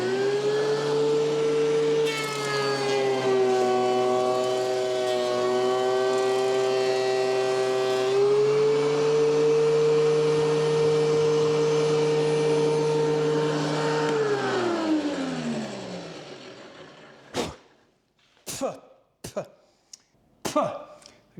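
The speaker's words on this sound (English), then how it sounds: "just the planer by itself is pretty powerful, blowing all of those wood chips out" An electric wood planer runs a board through and blows the wood chips out, giving a loud, steady, droning motor whine for about fifteen seconds before it winds down. A few short, sharp sounds follow.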